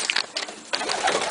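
Racing pigeons cooing near a loft, with soft repeated coos and rustling in two short bursts.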